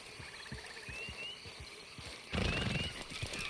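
A horse in a Wild West video game whinnies loudly amid hoof clops and scattered thuds, with a louder burst of game noise partway through.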